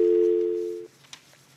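A steady telephone line tone hums loudly and evenly on a broadcast phone-in after a dropped call, then cuts off abruptly, leaving faint room noise and a small click.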